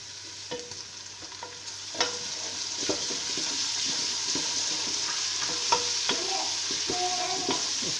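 Ground garlic and ginger fry in a pan of golden-browned ingredients for moong dal, a soft steady sizzle with occasional stirring clicks and scrapes, fairly quiet and with no talk.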